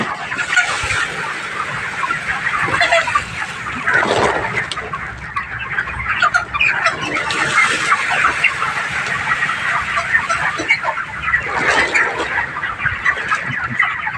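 Chickens on a poultry farm cluck and squawk continuously and close by, a dense overlapping flock chorus with no speech, a few louder calls rising above the steady din.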